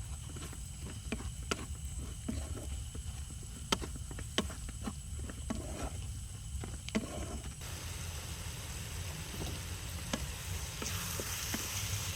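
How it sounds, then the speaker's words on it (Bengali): Chicken coated in spices fries in a pan at a jungle campsite in West Bengal, a soft steady sizzle with scattered clinks and scrapes of stirring, close and quiet, with a hiss rising near the end. "চিকেনটা দিয়ে দিয়েছি, আর ভালো করে গায়ে মশলাটা মাখিয়ে কষছি।"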